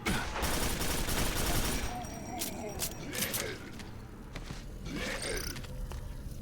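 Gunfire from the 2003 rifle in the Quake 4 video game, dense bursts of shots at the start followed by scattered sharper reports and mechanical clatter, loud amid other game noise and a talking voice.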